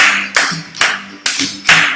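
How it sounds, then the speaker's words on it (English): Fans at a Cubs baseball game clap in time, four sharp, evenly spaced claps landing about every half second, loud and close. "So stand please, clap your hands."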